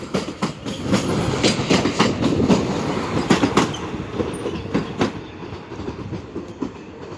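Two ER75 electric multiple units move through Warszawa Wschodnia station, loud steady rumbling with repeated clickety-clack of wheels over rail joints, continuing for several seconds and easing slightly toward the end.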